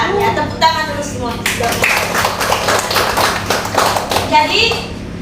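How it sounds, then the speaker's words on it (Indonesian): A burst of clapping from a group of schoolchildren in a classroom, steady and dense for several seconds, with children's voices mixed in before and after. "tepuk tangan dulu semua"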